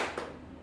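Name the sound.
single hand clap by audience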